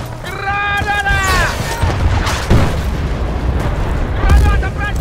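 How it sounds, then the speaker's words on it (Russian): A grenade blows up in Battlefield Bad Company, a loud close boom with a rumbling tail amid ongoing battle noise, while soldiers shout. "Граната!"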